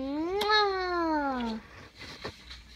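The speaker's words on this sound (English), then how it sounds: "I love my cat Roxy" A single drawn-out cat meow, close and fairly loud, rising then falling, followed by quiet rustling and a soft click.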